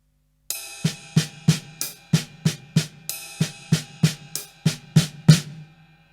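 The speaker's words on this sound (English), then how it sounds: "Then you can try moving your right hand to the right cymbal, your left hand to the hi-hat." Brisk alternating stick hits on a ringing cymbal and a hi-hat, a steady paradiddle sticking pattern with shimmering wash, close and clear.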